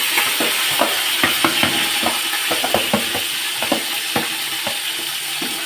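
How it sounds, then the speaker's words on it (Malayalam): Garlic, green chilli, curry leaves and finely chopped ginger fry in oil after mustard seeds pop, for a lemon pickle. A close, steady sizzle runs throughout with frequent sharp scraping clicks from stirring, and nobody speaks. "കടുക് പൊട്ടിക്കഴിഞ്ഞാൽ അതിലേക്ക് ഞാനിടാം വെളുത്തുള്ളി, പച്ചമുളക്, കറിവേപ്പ്, ഇഞ്ചി ചെറുതായി മുറിച്ചത് എല്ലാം ഒന്നായിട്ട് ഞാൻ ഇടുന്നുണ്ട്"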